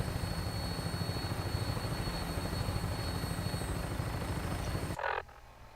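A vertibird aircraft in the Fallout 4 game flies along with a steady, loud rotor and engine drone that holds for about five seconds, then cuts off abruptly into near silence.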